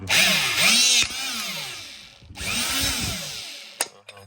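A hydraulic hole punch works through 4.5 mm steel, its loud motorized whine rising and falling in pitch over two strokes, with sharp clicks between them and a brief metallic snap near the end.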